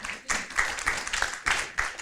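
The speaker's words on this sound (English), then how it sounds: "give the applause for our second speaker" Scattered clapping from an audience at a university summer course lecture at the Faculty of Geography, Universitas Gadjah Mada, greeting the second speaker. Uneven bursts of hand claps rise and dip over about two seconds, moderately loud and fairly close.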